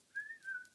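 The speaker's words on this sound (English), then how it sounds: "Give a little whistle." A short, soft whistled tone rises briefly, dips, then settles into a second note, faint and alone.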